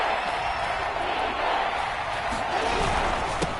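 A video game football crowd at Arrowhead roars as a steady, dense wall of noise, loud and continuous, with a commentator's voice faintly mixed in.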